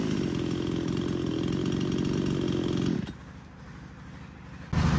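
A used Japanese-market chainsaw, one of the ECHO Kioritz, Shindaiwa, Hitachi or Maruyama saws, runs loud and steady at high revs. It drops to a low idle partway through, then revs back up sharply at the end.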